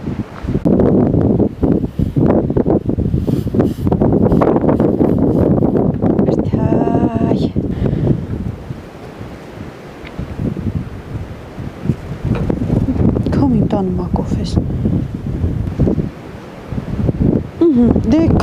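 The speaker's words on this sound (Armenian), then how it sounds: "քանի որ քամին շատ է ու ցուրտ" Strong, cold wind on a mountain summit in midwinter roars steadily into the microphone as a dense, continuous rumble, with people talking over it throughout.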